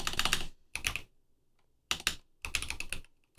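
Typing on a computer keyboard comes in four quick bursts of close, crisp key clicks separated by short silences.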